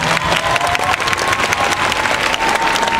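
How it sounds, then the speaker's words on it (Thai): Concert audience clapping loudly and densely for about three seconds, a close, continuous burst of applause with no talk over it. "ขอเสียงปรบมือให้กับตัวเองด้วย"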